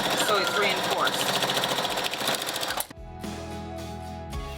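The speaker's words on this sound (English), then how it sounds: "let's go sew that up" Rapid mechanical stitching from a sewing machine reinforcing a tote bag strap runs steadily, then stops and restarts in shorter bursts, close and fairly loud.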